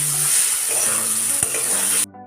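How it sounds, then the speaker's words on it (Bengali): Spice paste (masala) being sautéed in oil for a lote fish curry, giving a loud, constant sizzle with stirring scrapes that cuts off abruptly near the end. "মশলাটা প্রায় কষানো হয়ে এসছে, আরও কষাবো যতক্ষণ না মশলা থেকে তেল পুরো বেরিয়ে আসবে ততক্ষণ।"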